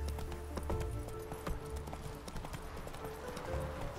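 Hooves clip-clop in a fast, steady gallop as the horse Roach runs in Witcher 3: Wild Hunt, loud and continuous over a low rumble of game sound.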